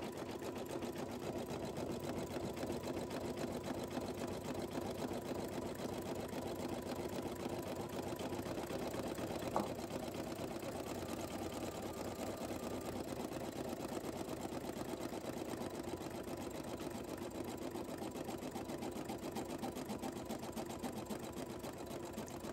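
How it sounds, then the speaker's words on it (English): A single-needle embroidery machine runs steadily through a satin stitch on glitter canvas vinyl basketball shoe charms, a continuous fast mechanical whir with one brief click partway through, close and alone with no talk. "it does another stitch around the ball area, and then it'll do a satin stitch around both of the basketballs in your design"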